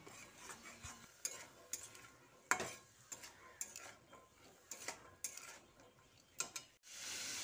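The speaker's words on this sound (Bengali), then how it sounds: "মশলাটা দেওয়া হয়ে গেলে ছোলার সঙ্গে ভালো করে মিশিয়ে নিচ্ছি।" Boiled chickpeas being mixed with a spice blend of salt and black salt for chana chaat, giving soft, scattered spoon-against-bowl clinks and stirring scrapes at close range with no voices.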